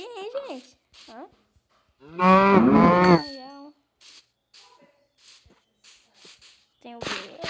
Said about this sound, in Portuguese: Tem muita vaca aqui, hein, gente?